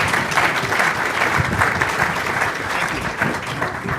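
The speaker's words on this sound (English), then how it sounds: "Give them a round of applause." Conference audience claps steadily for a panel, dense continuous applause from a room full of people.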